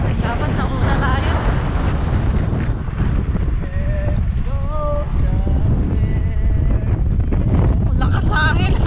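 Strong wind buffets the microphone outdoors, a loud, continuous low roar with gusty swells, while voices call out faintly underneath now and then.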